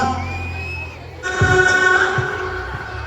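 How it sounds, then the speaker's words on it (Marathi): Loud crowd cheering and whooping bursts out at a Marathi stage event in a hall, rising sharply partway through and staying dense with shouting voices over a steady musical drone. "जोरदार टाळ्या झाल्या पाहिजे"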